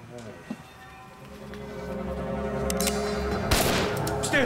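A gunshot goes off inside a building guarded by Yugoslav security agents: a sharp crack over a dense, murky background bed, with a lighter report shortly before it.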